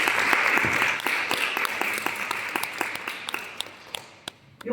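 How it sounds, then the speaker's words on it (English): A conference audience at a women's empowerment event in Meyerton bursts into sustained applause that thins out to scattered individual claps over a few seconds, with some voices in the background. "Give yourselves a round of applause."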